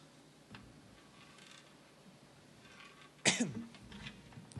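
A single sharp cough from a singer bursts out near the end after quiet room tone during a live stream from Cyprus Avenue, followed by a short fading rasp.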